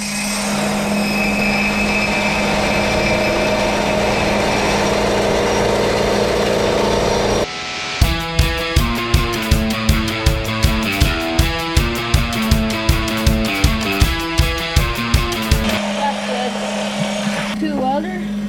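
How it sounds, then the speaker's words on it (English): A grinder works on metal, close and loud, giving a harsh continuous whine with a steady tonal hum. Partway through it changes to a rapid run of regular pulsing bursts before the steady grinding returns. "start grinding."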